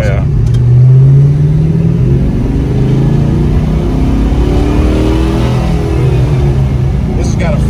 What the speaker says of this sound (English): You tap that throttle and kind of haul ass if you want.